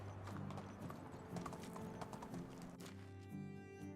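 A horse gallops in the video game Medieval Dynasty, its hooves making a fast, steady clip-clop that runs over soft background music.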